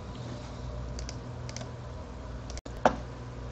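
Keys clatter softly on a computer keyboard as basic HTML is entered, with scattered quiet clicks in small bursts and one louder tap near the end, no voices.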